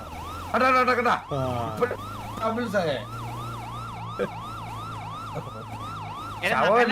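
A wailing emergency siren in a video game cycles up and down steadily, with brief bursts of other electronic tones at the start and end.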